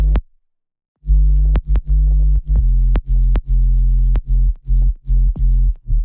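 A solo sub bass synth from a future bass mix, deep and heavy, playing loud sustained low notes in choppy rhythmic bursts after a brief silence, with no other instruments.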